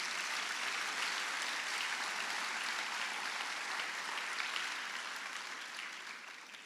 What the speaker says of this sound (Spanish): Dale un aplauso de alabanza.